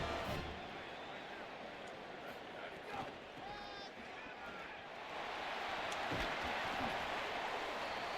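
Stadium crowd in College Football 27, a steady wash of roaring noise that swells louder partway through, with a faint commentary voice underneath.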